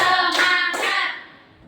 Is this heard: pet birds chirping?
no